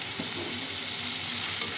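Dried fish frying in a pan with oil, a steady close hiss and sizzle with faint stirring scrapes throughout, no voices.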